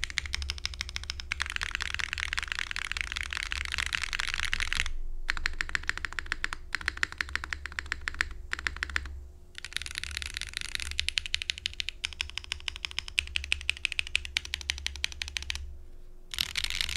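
Rapid typing on a Mode Sonnet keyboard with a full polycarbonate case, polycarbonate plate, green Lattice mount, copper internal weight and GMK keycaps, a dense close clatter of keystrokes in steady bursts separated by brief pauses, with no voices.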